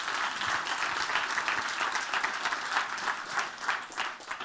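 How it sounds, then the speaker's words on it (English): A theatre audience gives a steady round of applause as volunteers walk up onto the stage, even, continuous clapping from a full house with no talking over it. "But give them a nice round of applause as they join me on the stage."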